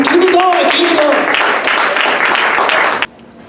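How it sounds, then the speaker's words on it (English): A comedy-show crowd at a casino claps and cheers loudly and steadily for about three seconds while a voice calls out over it, then the applause stops abruptly. "keep that a round of applause going for BJ under the booth"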